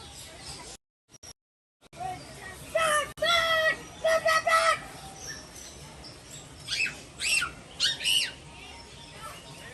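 Birds at Disney's Animal Kingdom give bursts of sharp squawks and chirps, fairly close and loud, separated by short pauses, with faint voices murmuring in the background.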